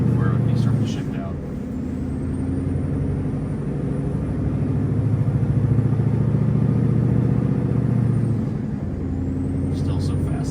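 The Scania 770S V8 semi truck gives off a deep, sustained engine drone while driving, revving above 1500 RPM. It is loud and close, with a dip around a gear change and brief higher noises near the start and end.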